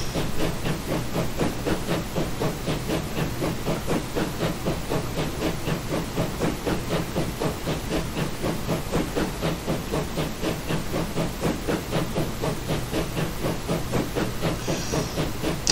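A 1912 Metropolitan Railway coal train runs in Transport Fever 2 on the Uxbridge branch, its steady clickety-clack beating out an even rhythm under a constant steam hiss for the whole stretch, with no voices.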